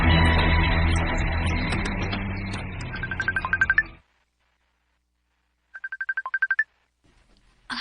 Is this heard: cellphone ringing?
yes